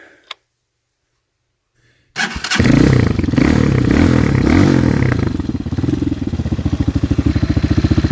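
A Honda Hawk 250 motorcycle cranks after a quiet pause and catches into a loud, close engine roar, then settles into a rapid, even chugging idle.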